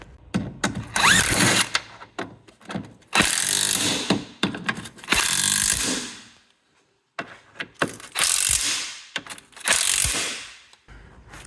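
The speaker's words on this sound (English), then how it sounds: "I'm going to tighten that up now." Ratchet wrench tightening a loose front bolt on a Fiat Coupe 20V Turbo, heard as bursts of clicking mechanical ratcheting strokes with short pauses between, close and fairly loud, no talking.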